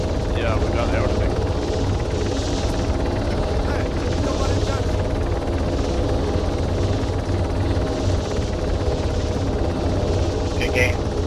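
A helicopter in the military video game ArmA 3 drones loudly and steadily throughout, its rotor and turbine noise continuous and close.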